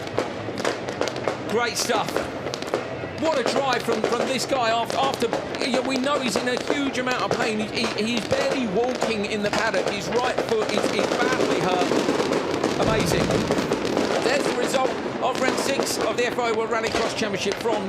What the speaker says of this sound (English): The noise you can hear in the background is the fireworks still going off.